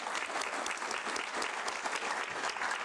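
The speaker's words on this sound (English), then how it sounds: "Give them a round of applause." An audience at a school board meeting claps for regional art show winners and state qualifiers, a brief, even burst of applause heard from a distance at low volume.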